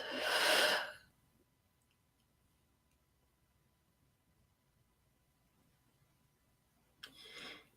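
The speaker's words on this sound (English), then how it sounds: "And then exhale, blowing it out through your mouth." A deep breath blown out through the mouth during a guided meditation, a loud breathy rush lasting about a second, followed by near silence and then the start of another breath at the end.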